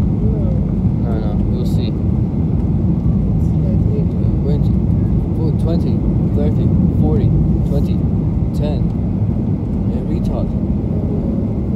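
A Ryanair Boeing 737-800 touching down hard at Stansted, heard from inside the cabin as a loud steady engine and airframe roar with rumbling throughout, while people talk and an automated callout repeats.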